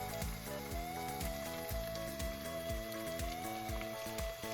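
Peppers cook in a pan for tropical curry, giving a constant moderate sizzle with faint popping and a steady tonal hum beneath, even and continuous throughout.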